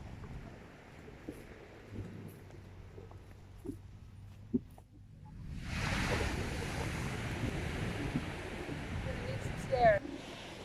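Pacific Ocean surf reaching the shore, starting quiet with faint background sound and then swelling into a steady, broad rush of breaking waves and wind, fairly loud and close.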